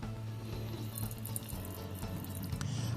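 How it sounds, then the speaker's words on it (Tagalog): Soapy water sprayed onto a punctured tire of an NWOW WSP eBike, heard as a close, continuous hissing wash with faint dripping and spattering, with no talking. "ini-spray ko po ng tubig, ng sabon"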